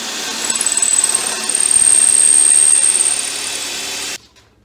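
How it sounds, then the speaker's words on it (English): A power drill whines loudly as it bores into wood, its pitch rising as the bit bites, running steadily for about four seconds before stopping abruptly. "when I drill down, this should now drill pretty easily."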